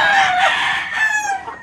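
A JR rooster kept with four JR hens crows loudly and close, one long strained call that tails off, with no voices.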